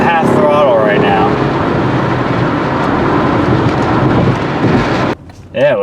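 A 2000 Honda Accord engine fitted with a short ram intake, held at about half throttle while driving, gives a loud, steady, rumbling drone that ends in a brief dip with a voice near the close.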